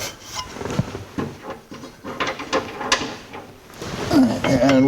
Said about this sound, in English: we have to take the ashtray out of the holder.